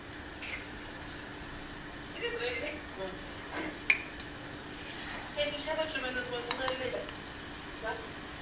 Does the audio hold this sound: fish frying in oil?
yes